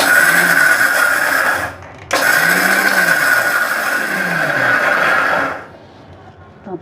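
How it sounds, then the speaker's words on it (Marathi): A kitchen mixer grinder whirs loudly and steadily as it grinds sabudana (sago) into fine flour, stopping briefly, restarting, then spinning down near the end, close to the listener with no talking. "मी मिक्सरला आता साबुदाणे वाटून घेते"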